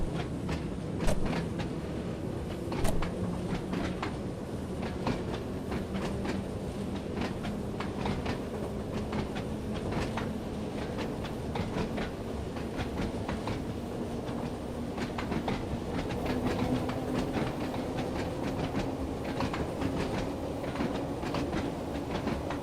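Simulated train from Train Sim World 2 rolling along the rails, a steady rumbling run with regular clickety-clack wheel beats and a slowly rising motor whine, with no talking.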